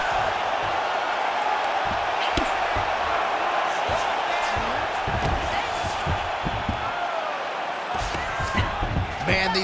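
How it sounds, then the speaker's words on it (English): A packed arena crowd roars and cheers nonstop through a simulated UFC women's bout between Valentina Shevchenko and Manon Fiorot, a dense, loud wash of voices with occasional sharp thuds and slaps cutting through. "The crowd's going crazy because they just saw two high-level grapplers mix it up on the ground."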